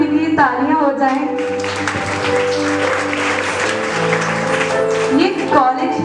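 Audience in a hall clapping for a retired college principal, a broad sustained wash of applause lasting several seconds over faint background tones.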